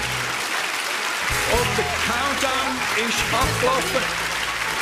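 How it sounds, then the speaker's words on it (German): Studio audience applause at the finale of a Swiss rural women's cooking competition, a steady broadband clatter running under a presenter's voice and background music throughout. "Vor lauter Applaus habe ich die Musik gar nicht gehört."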